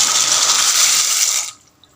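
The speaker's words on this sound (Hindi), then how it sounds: "ये पानी बॉयल हो रहा है, इसमें हम 2 कप मैक्रोनीस डाल देंगे" Two cups of macaroni pour into a pot of boiling water, a loud bright rushing hiss that holds for about a second and a half, then cuts off sharply into near silence with a faint small tap.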